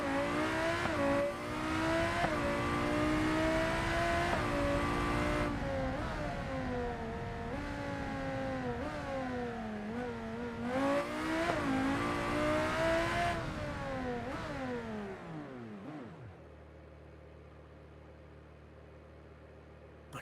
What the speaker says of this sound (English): That exhaust, you would hear it from a distance.